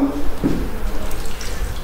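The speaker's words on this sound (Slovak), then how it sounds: "Zalejem vodou." Water poured from a vessel into a roasting pan of chicken with cabbage wedges, olive oil and bacon, a short close splash and trickle lasting under two seconds, with brief low clatter near the start and no talk.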